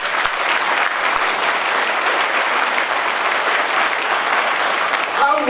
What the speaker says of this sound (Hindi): उनके लिए एक बार जोरदार ताली बजाइए।